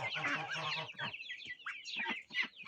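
Ducks, chickens and other farmyard poultry during 40-plus-degree heat give a dense burst of honking and clucking, then scattered nearby calls and squawks that come and go.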